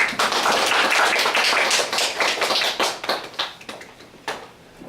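An audience at a seminar on tour guiding in remote regions breaks into dense, lively applause that carries on steadily, then thins into scattered claps and trails off near the end.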